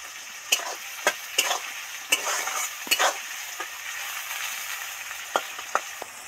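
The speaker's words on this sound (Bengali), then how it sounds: "সবার আগে পেঁয়াজটা ভাজতে দেব। পেঁয়াজটাও তেলের মধ্যে উঠিয়ে দিলাম।" Onions fry in oil for a village-style katla fish curry, a continuous close sizzle broken by sharp, irregular scrapes and taps from the stirring utensil.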